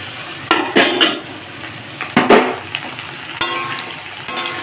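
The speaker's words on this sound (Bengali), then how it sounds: "কাঁকরোলগুলো আর একটু নাড়াচাড়া করে" Spiny gourd pieces are stirred in a frying pan, a spatula clattering and scraping in several sharp, uneven strokes over a low sizzle, close and fairly loud.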